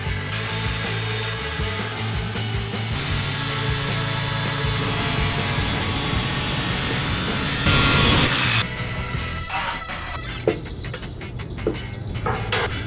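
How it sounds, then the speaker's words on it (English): A power tool cutting triangles out of a metal sheet for building a blacksmith forge, a loud continuous grinding whine that shifts pitch partway through, then breaks into rattling clanks and sharp metallic knocks near the end. "I'm gonna cut a couple of triangles out and weld it onto the end of the forge."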